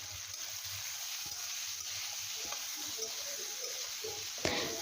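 Fried vegetables go into a hot pan while a tea-time snack is cooked, giving a steady, close hiss of sizzling oil with a few soft clinks of utensils.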